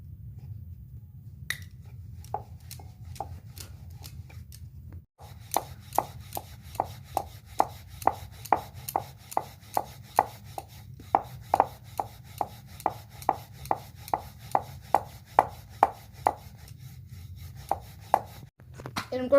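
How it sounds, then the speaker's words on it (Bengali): Spinach paratha dough is rolled out with a rolling pin, producing a long, regular series of light wooden knocks and taps over a low background hum, pausing briefly once before continuing. "এরকম করে আমি সব পরোটার আকারে বেলে রেখে দেবো।"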